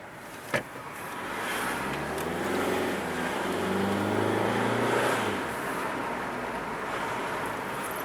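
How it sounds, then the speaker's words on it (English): A car approaches and passes nearby, its engine and tire noise swelling then fading, after a short knock at the beginning. "Another driver's coming."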